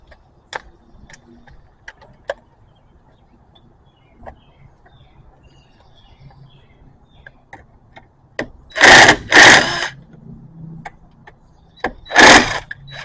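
A ratchet or wrench loosens the brake caliper bolts on a 2016 Mazda CX-5, giving scattered faint clicks and then two loud, close bursts of rattling ratchet noise near the end.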